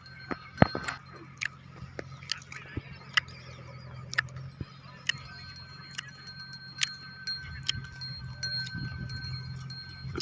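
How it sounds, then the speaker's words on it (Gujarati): Cows graze nearby on green grass, with scattered crisp tearing and chewing sounds over a low hum of outdoor farm background noise. "જોઈ શકો છો એકદમ ખૂબ સરસ રીતે ગાયો ચરે છે"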